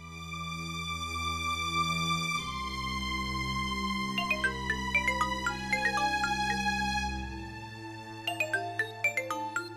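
Mobile phone ringing with an incoming call, a melodic electronic ringtone that plays sustained tones and then shifts into quick repeated chiming notes, clear and prominent with no talking.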